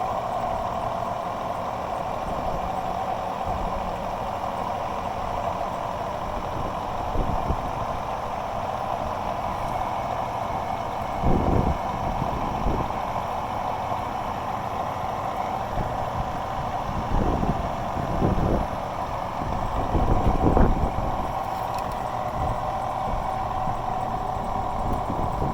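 A Maytag Neptune front-loading washing machine winds up toward full spin, giving a steady, even whirring hum with a high whine on top, broken by a few soft knocks and clunks.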